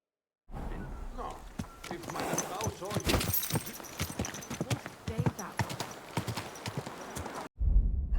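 Horse in the video game Kingdom Come: Deliverance 2, hooves clip-clopping quickly and close along with a whinny, while a character speaks over the hoofbeats.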